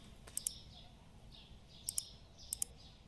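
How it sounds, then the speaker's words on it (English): Several short, faint high chirps from birds come in small pairs spaced across a quiet background hiss, with no talking. "How's the sounds of the birds chirping, guys?"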